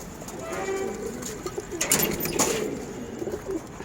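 Pigeons cooing inside a dimly curtained loft of male birds kept for sale, soft low murmurs repeating steadily beneath a constant airy background hiss.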